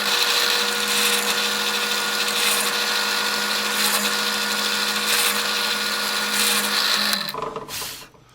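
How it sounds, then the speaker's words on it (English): A drill press drilling holes in a board with a line bore jig whines steadily at high speed for several seconds, then spins down and falls quiet. "Let's drill a few holes here and demonstrate."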